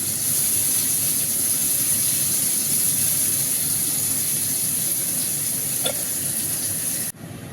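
Onions fry in a pan of oil after potatoes are taken out, giving a steady, loud sizzle and hiss that goes on without a break, with one short clatter near the end and no voices.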